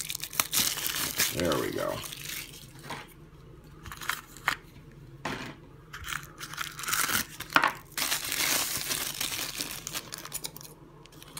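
Plastic packaging of Squinkies Do Drops packs torn open by hand: repeated bursts of crinkling and ripping close up, with a voice speaking briefly between them.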